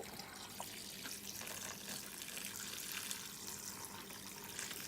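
Water pours steadily into a turkey brine container holding quartered oranges, a continuous soft rushing stream that runs unbroken throughout.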